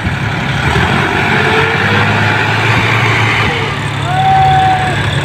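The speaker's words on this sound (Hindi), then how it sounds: "ड्राइवर भाई साहब ने पूरा जोर लगा दिया ट्रैक्टर का, फिर भी ट्रैक्टर नहीं निकल रहा।" Sonalika DI 50 tractor engine running steadily under load while reversing, stuck in a muddy field, a continuous loud low rumble throughout with a brief higher whine near the end.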